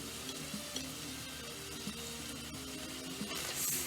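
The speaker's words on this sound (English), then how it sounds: "just stir all this up together" Bell pepper, onion and fresh garlic being stirred with meat in a hot pan, a continuous close sizzle broken by scraping and stirring knocks, with no talking.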